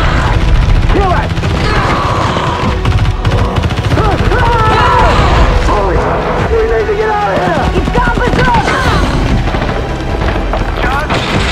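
Gunfire and booms in the Poppy Playtime animated movie pound continuously in a loud chaotic battle mix, with shouting voices layered over the blasts throughout.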